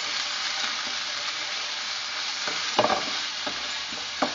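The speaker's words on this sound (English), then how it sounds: "This is all about a stir fry," Choy sum greens stir-fried in a hot pan give a steady bright sizzle throughout, with a few louder scraping stirs near the end and no talking.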